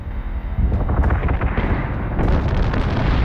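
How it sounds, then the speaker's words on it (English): Ship explosion in the space combat game Battlestar Galactica, a deep rumbling blast that bursts in after a quiet moment and rolls on as a dense, booming cascade of detonations close up, with no talk. "Oh, that looked like a cascading explosion in there."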